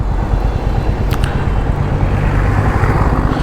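Royal Enfield Classic 350 motorcycle idling or running close by, a steady, loud, thumpy single-cylinder exhaust note with deep low-end pulses, alone without talk.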